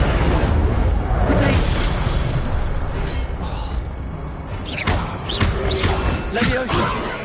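Incendio fire spells are cast in Hogwarts Legacy, with loud whooshing blasts and bursty thumps that come in repeated waves over dense game noise.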